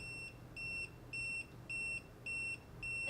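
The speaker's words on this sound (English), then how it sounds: "this thing is going to go beep, beep, beep, beep, beep, beep, beep, beep, beep to let you know that it is hot" A non-contact voltage sensor held near a live power wire during a ceiling light fixture replacement beeps in a steady pattern: six evenly spaced, shrill electronic tones over a low background hum.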